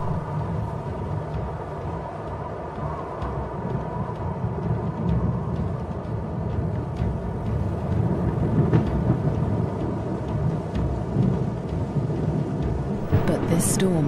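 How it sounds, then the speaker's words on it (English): A thunderstorm builds over the African savanna grassland, with a continuous low rumble of thunder and the hiss of rain, steady and fairly loud, swelling slightly toward the end with a brief sharp crackle. "A storm approaches."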